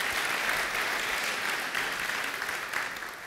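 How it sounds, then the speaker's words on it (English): Audience at a college convocation claps steadily and densely for the whole stretch, a sustained wash of applause that stays at an even level with a slight easing toward the end. "But give yourselves a round of applause."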